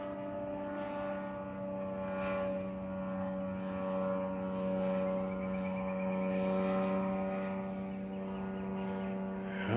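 A Rans S12 light aircraft engine during takeoff, a steady droning propeller hum that swells and fades slightly as it goes, heard alone at moderate distance.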